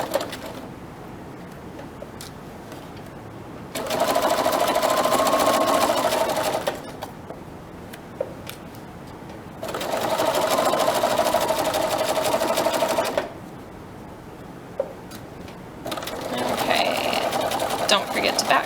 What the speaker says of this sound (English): Don't forget to backstitch before you reach the end.